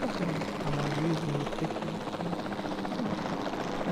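Helicopter rotor and engine noise from Jurassic World Evolution 2, a dense, steady thrum with a pulsing blade chop, continuous and fairly loud throughout.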